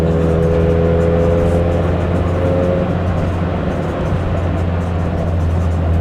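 A tuned Toyota Glanza drives along with a steady, droning engine hum and road rumble, heard from inside the car; a faint tone fades midway while the drone continues at an even level.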